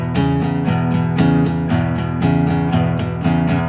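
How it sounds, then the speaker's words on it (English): An electric guitar plays a riff in straight eighth notes, with an even, steady pulse of repeated plucked notes and bass movement, loud and close with no talking. "I can play that in straight 8th notes too, which will sound like this."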